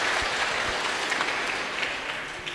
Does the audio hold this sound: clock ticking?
no